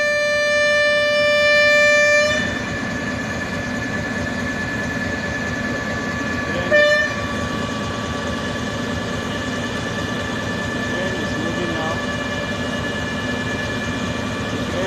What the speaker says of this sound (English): Train is moving now from Rigasa to Idu station, Abuja.